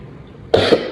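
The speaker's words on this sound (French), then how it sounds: "J'ai une toux sec là qui me fatigue." A person coughs dryly two or three times in short, sharp bursts, fairly close and with no talk over it.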